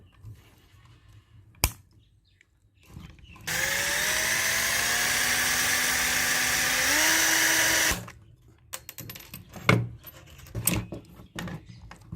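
A power drill whines steadily for about four seconds, its pitch shifting slightly as it bores, framed by scattered clicks and handling knocks.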